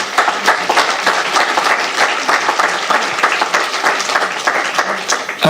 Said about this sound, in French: Je crois qu'on peut applaudir toutes ces associations qui œuvrent pour l'intergénérationnel.